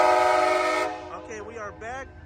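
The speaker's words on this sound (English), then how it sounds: "Train 11 is departed the Oakland London Square Station." The Amtrak Coast Starlight, led by an ALC-42 locomotive, sounds a loud sustained multi-tone horn as it departs Oakland Jack London Square station, then the horn cuts off and a person speaks.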